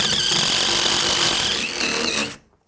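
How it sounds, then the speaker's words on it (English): A power drill bores a deep hole through a wooden shed frame, a loud, steady grinding whine that lasts about two seconds, then cuts off abruptly into silence. "We just got to drill a hole through the frame so that we can attach this piece of nylon string."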